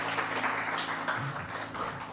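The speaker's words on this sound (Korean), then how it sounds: "하나님께 영광의 박수를 올려드리겠습니다" A church congregation claps together during a Friday worship service, a steady wash of applause under faint low background tones.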